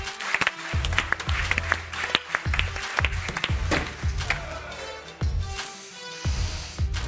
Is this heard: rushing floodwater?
no